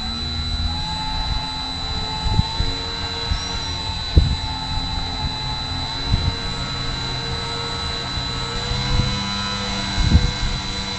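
An air blower on a BBQ Dragon fire roars steadily, joined by a constant hum and a few thumps and knocks.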